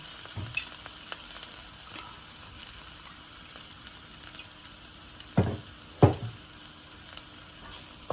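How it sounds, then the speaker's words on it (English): Olive oil sizzles steadily with ginger and garlic in a pan, with a continuous soft frying hiss and a few sharper pops standing out, heard close and alone. "Now it's a bit more of a party because I've got the popping that's going"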